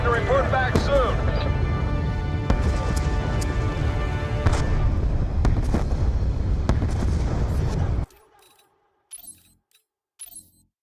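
Mortar fire in the Black Ops 2 campaign, a dense barrage of booms and blasts under loud battlefield noise for about eight seconds, then cutting off abruptly to near silence with brief voices.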